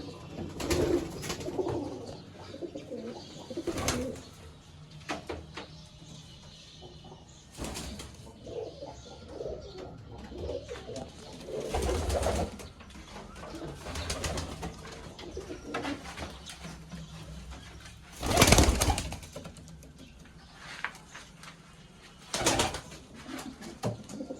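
Pigeons coo in soft, repeated rumbling phrases, with occasional wing flaps and flutters nearby, no voices present.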